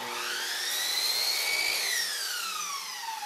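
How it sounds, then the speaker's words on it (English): A miter saw cuts polyurethane crown molding at a 45-degree miter angle. Its loud, steady motor whine rises in pitch, then slowly falls through the cut, with no voices. "we're going to set our miter saw to the left 45-degree miter angle and make our cut"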